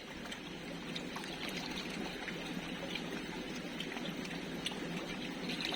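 Water pours out of a brine shrimp hatching vessel, a continuous faint trickling and splashing stream that runs steadily for several seconds with no speech.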